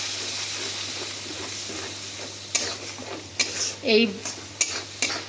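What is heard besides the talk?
spice paste frying and being stirred in a pan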